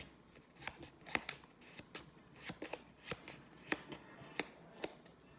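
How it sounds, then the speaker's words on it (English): A deck of playing cards is shuffled during a Lord of the Rings board game session, giving a rapid series of crisp, close riffling snaps and flicks with no talking over it. "So I'm going to shuffle."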